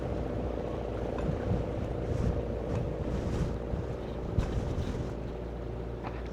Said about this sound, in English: it's a pretty windy day as forecasted